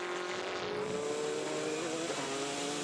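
A Toyota number 8 prototype race car at the Le Mans endurance race passes with a steady, sustained high-revving engine note and a slight pitch shift near the end, heard over constant broadband track noise.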